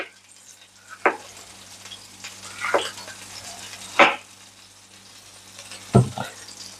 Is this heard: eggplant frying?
yes